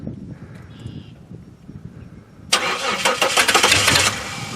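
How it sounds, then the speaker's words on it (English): A car engine cranks over and catches. The starter churns briefly, and then the engine fires into a loud, rough, steady roar at close range, with no talk over it. "All right, Steven, start her up"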